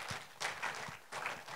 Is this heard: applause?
yes